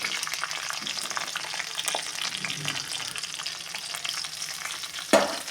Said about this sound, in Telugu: ఇవి బాగా ఫ్రై అవ్వాలి.